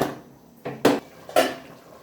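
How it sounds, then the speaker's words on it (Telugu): A lid set onto a cooking pot of Andhra-style country chicken curry, two sharp metallic clanks close by after a brief shuffle, with no talking. "మూత పెట్టేస్తాను."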